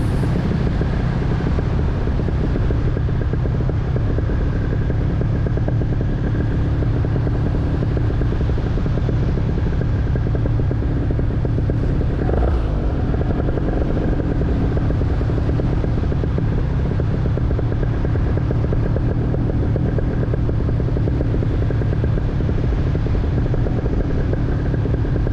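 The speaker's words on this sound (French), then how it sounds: "je suis obligé d'utiliser le moteur par moment" A paramotor engine drones steadily and loudly in flight, a continuous buzzing roar that holds throughout with wind rushing past the microphone.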